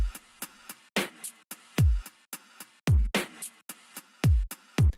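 A sliced electronic drum pattern plays on its own, with punchy booming kicks with falling pitch and sharp snare hits layered over choppy percussion in a steady dance rhythm.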